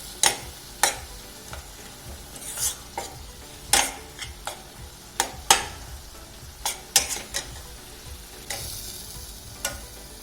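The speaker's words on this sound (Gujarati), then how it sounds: "આવી રીતે આપણે તાવેતાની મદદથી ક્રશ કરતા જઈશું થોડી" Amaranth greens fry in a pan over low to medium flame, a soft sizzle under repeated sharp scraping and tapping as a spatula crushes the leaves in an irregular rhythm.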